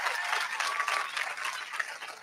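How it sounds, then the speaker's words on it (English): A large audience at a political event applauding and cheering, a dense continuous wash of clapping and crowd noise that holds steady throughout, fairly distant. "The whole crowd's cheering."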